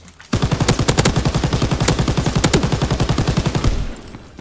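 Sustained automatic MG fire in a 1vs1 video game match, a fast, steady rhythm of loud shots for about three and a half seconds before it cuts off.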